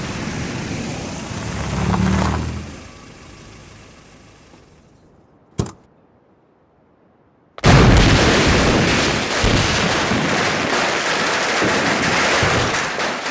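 Firecrackers set off during a wedding celebration at a house: a faint crackle and one sharp isolated bang, then a loud, sustained barrage of rapid popping and crackling bursts that continues without pause.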